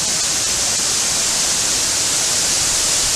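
A waterfall in Cambodia or Vietnam, heard from its base inside a collapsed cave, roars as a loud, unbroken broadband rush of falling water with no other sounds.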